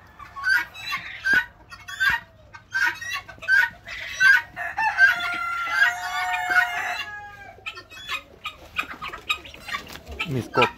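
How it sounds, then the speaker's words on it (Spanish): Chickens cluck and squawk repeatedly close by, with a rooster crowing over them and other birds calling in the background. "Mis gallinas, esas peludas feas."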